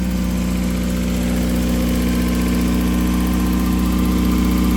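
A car engine with its correct ECU fitted idles steadily and close by, a continuous low rumble with a mechanical vibration that holds even throughout, and no voices are heard.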